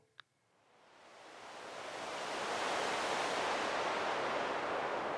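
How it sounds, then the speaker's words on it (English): Synthesized brown noise, filtered and sent through reverb and delay, swells in over about three seconds after a brief click and then holds as a steady, even hiss. "So that's brown noise."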